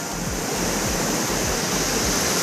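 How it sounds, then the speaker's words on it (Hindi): The Ranidahara waterfall in Chilphi Ghati, Kawardha, thunders as a loud, continuous rushing roar of falling water that fills the air steadily with no pauses and no voices. "इतना ज़्यादा खूबसूरत झरना है दोस्तों। ये झरना दो भाग में टूटता है।"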